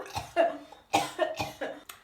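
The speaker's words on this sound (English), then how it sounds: "this type of sneeze is called the cough sneeze" A woman demonstrates a cough sneeze: five short, sharp cough-like bursts in an uneven rhythm, close and clear, with brief pauses between each.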